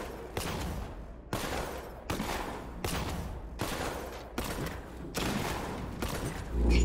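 Repeated cannon blasts in Batman: Arkham Knight, about eight loud, broadband bursts roughly every 0.7 seconds, each with a short decaying tail.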